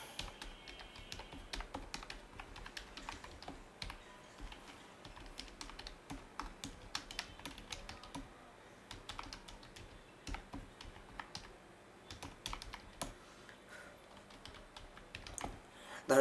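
Rapid, steady keystrokes on a computer keyboard as Bengali text is entered into an AI video tool, with fairly quiet, continuous clicking and no one speaking.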